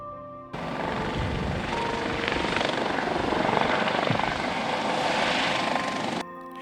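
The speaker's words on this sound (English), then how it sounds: "and then move and take off the helicopter" Helicopter lifting off from a helipad, a loud, close, continuous roar of rotor chop and turbine that cuts in abruptly and holds steady for several seconds before ending just as suddenly.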